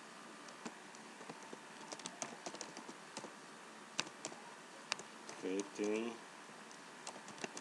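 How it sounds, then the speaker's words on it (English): Computer keyboard typing of code: scattered, fairly quiet key clicks tap irregularly throughout, with a brief spoken word near the end. "Let's continue typing the code."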